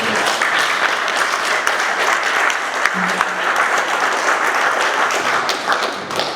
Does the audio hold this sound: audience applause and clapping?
yes